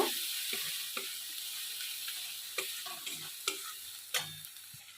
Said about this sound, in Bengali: পরিমাণ মতন মশলাটাকে ভালো করে কষে নেব